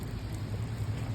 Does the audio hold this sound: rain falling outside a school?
yes